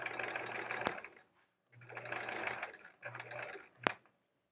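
A domestic sewing machine sews quilt pieces together in three short runs of fast, close whirring stitching, with brief pauses between them and a sharp click after the first and last runs.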